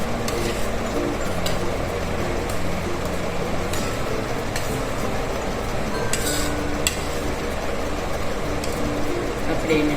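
Besan ladoo mixture with powdered sugar and cardamom powder being stirred and mixed by hand in a bowl, giving a soft, steady gritty rustle with occasional light clinks, heard under someone talking.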